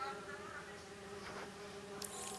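Bees buzz in the superhero game Marvel's Spider-Man 2, a steady insect drone that continues for a couple of seconds with a brief brighter flutter near the end and no voices over it.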